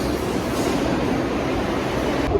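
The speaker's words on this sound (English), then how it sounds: "Watch as the subway train passes by." A New York City subway train passes through a station with a continuous loud rumble and rattle of rail cars, steady throughout with no voices.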